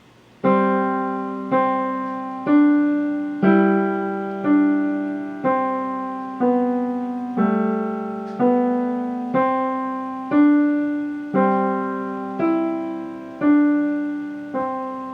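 A piano plays a slow melody line from Bach's Musette, single and paired notes each struck clearly and left to ring and fade before the next, without talking.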